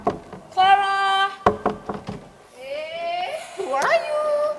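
Several sharp raps on a house door on an evening, a quick cluster of knocks standing out among children's voices calling and talking around them.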